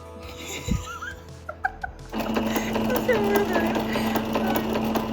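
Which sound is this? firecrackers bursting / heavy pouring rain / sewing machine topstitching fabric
sewing machine topstitching fabric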